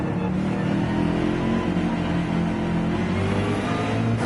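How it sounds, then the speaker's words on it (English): Racing car engines in Gran Turismo 7 drone loud and steady, one engine's pitch rising and falling as it revs, with other cars whirring close by. "I don't want to cut off the car that's on the inside of me that I can hear in my earphones"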